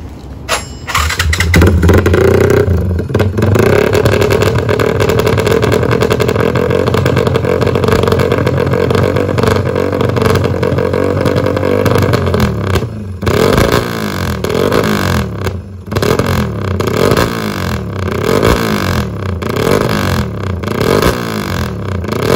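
A custom workshop-built motorcycle engine starts and idles loudly, then revs in repeated rising and falling bursts close to the microphone, with no talk.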